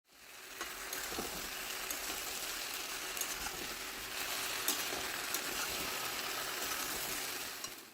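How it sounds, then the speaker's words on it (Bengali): Vegetables for shukto sizzle in a pan while poppy seed and mustard paste is gently stirred in, a steady soft frying hiss with occasional light scrapes and taps, fairly quiet and close. "এখন পোস্ত বাটাটাকে সবজির সাথে হালকা হাতে মিশিয়ে নিতে হবে"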